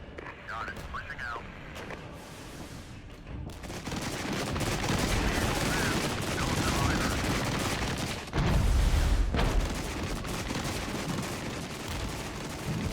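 Gunfire rattles through a battle in the real-time tactics game Regiments, with US forces, M1A1 tanks and mortars fighting over a town. Dense overlapping shots and blasts run continuously, growing louder midway, with a commentator talking over them.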